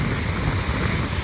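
Broad, even wash of surf at Kite Beach in Jumeira, Dubai, a steady hiss and rumble with wind buffeting the microphone and no voices.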